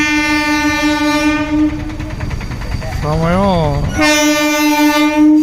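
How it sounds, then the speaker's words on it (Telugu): A Repalle–Tenali passenger train passes close by, with a loud sustained horn blast, then clattering wheels, a rising and falling horn note and another long horn blast, while someone speaks briefly over it. "కనిపిస్తున్న రేపల తెనాలి ట్రైన్"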